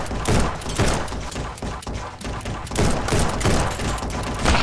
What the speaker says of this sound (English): Can we fire from the hip?